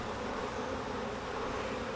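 Steady, thick buzzing from a swarm of some 40,000 honeybees being settled into a new hive, close and loud, unbroken throughout with no voices.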